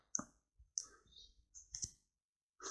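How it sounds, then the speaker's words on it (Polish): A few sharp, faint mouse or touchscreen clicks while working in Excel on an Android device, spaced irregularly over quiet background. "Klikniemy sobie to."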